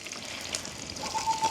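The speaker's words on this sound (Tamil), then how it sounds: "இப்போ வந்து கடுகு, அதோட வந்து கொஞ்சம் பெருஞ்சீரகம், ஒரு கருவா வந்து அதோட வந்து ஒரு ஏலக்காயும் போட்டிருக்கு." Mustard seeds, fennel, cinnamon, cardamom and shallots fry in hot oil, giving a faint, steady crackling sizzle with a few soft pops, heard on its own.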